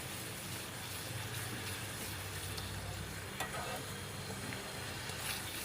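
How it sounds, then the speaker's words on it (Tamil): Carrot halwa with sugar being stirred in a pan as the water cooks off, a steady close sizzle and bubbling with soft scraping of the spoon throughout, no talking. "அதில் உள்ள தண்ணியெல்லாம் நல்லா வற்றி ஹல்வா பதத்துக்கு வர்ற வரையும் நம்ம மிக்ஸ் பண்ணி விடணும்."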